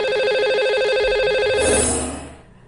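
A telephone rings for an incoming call during a TV show, a sustained electronic ring tone held steadily before fading away at the end.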